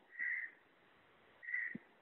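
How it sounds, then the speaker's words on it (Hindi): A crow caws twice, with a loud harsh call near the start and a second one about a second later, each set against a quiet background with no voices. "क्या ये पक्षियों की आवाजें आ रही हैं आपके उधर से। अगर कौवा है?"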